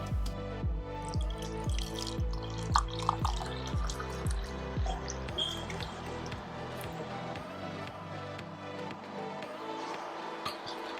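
Water with lemon poured over basil-cucumber and matcha drink mixtures, a steady splashing trickle with dripping, close by, running under background music.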